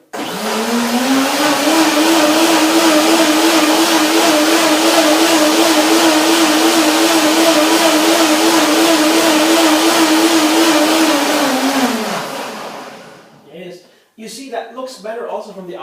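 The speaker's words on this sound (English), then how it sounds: "I blend it again." A blender whirs steadily as it purees a raw vegan coconut avocado cream dressing, a loud continuous motor drone lasting about twelve seconds before winding down, followed by a few brief clatters and faint sounds.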